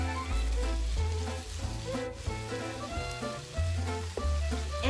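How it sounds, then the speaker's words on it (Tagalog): Chicken pieces for adobo fry in a pan, a steady close sizzle that stays loud and dense throughout, with light scraping as pieces are turned one by one. "binabaliktad ko lang yung chicken ng paisa-isa. Yung parang nagpiprito lang, ganun."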